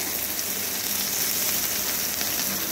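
Dried chilli, black cumin and chopped onion sizzle in hot oil with a steady, even hiss that stays close and constant throughout, without any talk.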